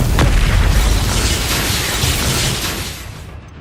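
Loud spell explosions from the Expulso charm in the Hogwarts Legacy video game, a booming blast with a sharp burst at the start and a dense rumbling tail that slowly fades.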